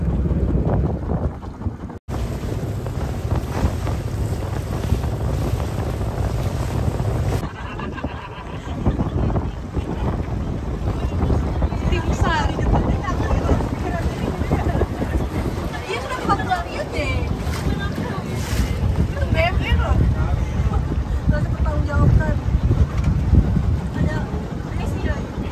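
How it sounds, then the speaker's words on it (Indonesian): A small speedboat pounds across rough sea off Belitung in strong wind, a constant roaring mix of engine, rushing water and wind buffeting the microphone, loud and unbroken for the whole stretch with faint voices at times. "Kita naik kayak speedboat gitu, naik kapal kecil."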